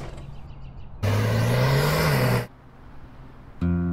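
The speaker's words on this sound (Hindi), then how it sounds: "ये ट्रक लोड हो गए हैं, बस निकल रहे हैं" Loaded Tata trucks pulling away, a steady low engine drone that swells into a loud, rising rev for about a second and a half, then drops back to a quieter idle before another burst starts.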